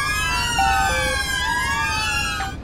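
Wailing police sirens from a GTA 5 UK police mod sweep up and down in overlapping tones, loud and close, with a short steady beep mixed in during a pursuit in Los Santos.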